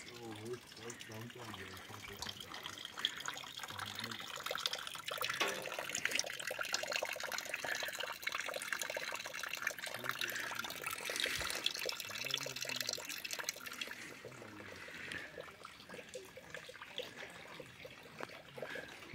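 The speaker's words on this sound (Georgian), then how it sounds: "წყალი" Water trickles and flows in a stream near a rustic outdoor picnic spot in the countryside, a soft, continuous babble under a person talking.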